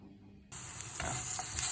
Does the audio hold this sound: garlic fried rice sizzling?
yes